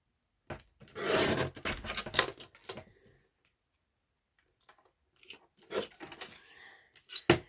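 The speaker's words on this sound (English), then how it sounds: "Let's get my little trusty guillotine and cut that out." A small paper guillotine slices through card for a scrapbin-challenge handmade card, giving a cluster of close, crisp rasping cuts and clunks, a pause, then a few more sharp chops.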